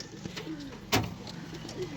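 Pigeons coo at a pigeon farm, soft repeated low throaty calls close by, with a brief sharp knock or flutter midway and faint background noise.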